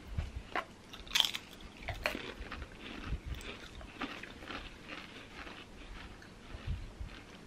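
Quiet, close crunching of a Pringles Super Cheesy Italian potato chip, a few sharp bites followed by softer chewing with no talking.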